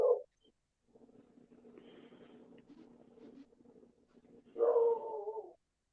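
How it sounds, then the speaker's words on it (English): Puppies bark in a backyard after trapping a mole: a short yelp at the start, a low muffled rumble of activity, then a louder, drawn-out whining bark burst near the end. "your puppies are barking again"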